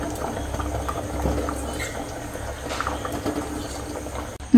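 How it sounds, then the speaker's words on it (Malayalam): Egg curry boiling in a pan, a low bubbling and gentle liquid burble that is soft and steady throughout, ending with a sudden louder knock. "കറി തിളച്ച് വന്നിട്ടുണ്ട്"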